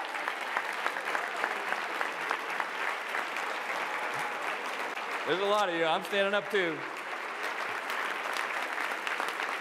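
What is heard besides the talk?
audience applause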